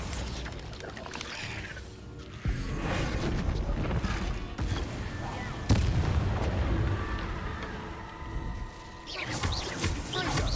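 A Confringo fire spell explodes in the Hogwarts Legacy game amid combat, with sharp booming blasts and rumbling impacts over layered game effects and music, loud and close.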